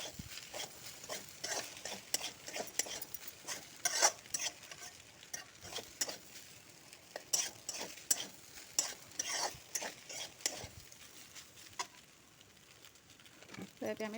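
Carrots and baby corn are stir-fried for veg fried rice over a low to medium gas flame, with a soft continuous sizzle under repeated scraping and clattering stirs, fairly close throughout.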